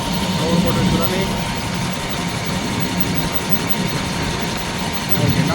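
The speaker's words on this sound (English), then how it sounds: "Our motor is running." Motor of a Lennox rooftop HVAC unit with a no-heat fault, running as a steady low hum with a faint constant tone, while a person talks nearby.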